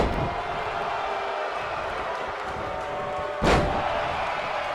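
A WWE 2K19 wrestler's leg is slammed onto the mat in one sharp, loud thud late in the clip, over a steady arena crowd murmur.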